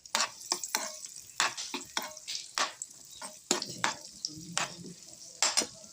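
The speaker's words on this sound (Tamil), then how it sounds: "திராட்சையும் பொரிச்சு எடுத்துக்குவோம்." Raisins frying in ghee in a pan for tapioca milk payasam, with a run of sharp stirring scrapes and clicks of a spoon over a soft, close sizzle.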